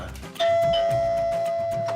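A doorbell at a house door chimes with a bright sustained tone that rings out and slowly fades over about a second and a half, with background sounds underneath.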